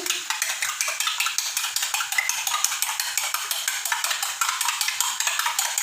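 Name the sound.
whisking eggs with black pepper and salt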